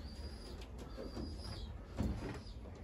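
Soft racing pigeon coos drift through a quiet loft, a few low murmuring calls with faint rustling and a brief thump near the end.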